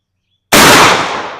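A single Remington 12 gauge shotgun fires a 7/8 ounce Slugger slug at an outdoor range, one very loud sharp blast after a moment of silence, trailing off in a brief echo.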